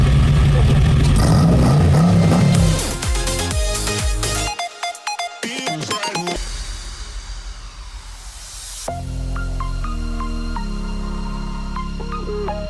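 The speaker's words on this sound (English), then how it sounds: "this is my awesome SLC fake Lamborghini Sesto" A fake Lamborghini Sesto replica car drives close by, its engine revving and rising and falling with clattering mechanical noise, then settling into a steadier drone.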